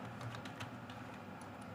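Keys clatter on a computer keyboard in quick irregular taps, soft and close, a short burst of typing with no talking.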